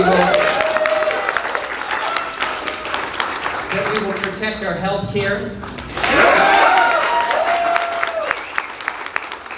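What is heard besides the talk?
audience applause at a campaign speech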